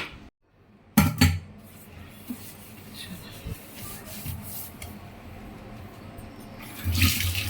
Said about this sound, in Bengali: যে কয়টা থালা বাসন জমেছিল সবগুলো মেজে নিলাম, নিয়ে বেসিনটাও মেজে নিচ্ছি, একেবারে সব ক্লিন করে নিব